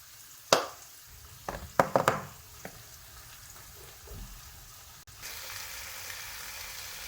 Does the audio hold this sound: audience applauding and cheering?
no